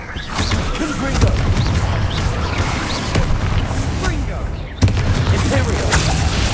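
Confringo spell explosions go off in Hogwarts Legacy on PS5. Dense booms and bursts pile onto a loud, continuous clash of game effects, with a sharp hit near the end and voices mixed in.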